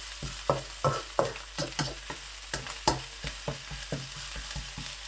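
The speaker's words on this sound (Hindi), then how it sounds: "आप देख रहे हैं बखूबी कि पेस्ट जो है वो अच्छी तरह से पक रही है।" Garlic paste fries in a pan as the base of a chicken gravy. A spatula scrapes it in a rhythmic run of strokes over a low sizzle, close and with no talk.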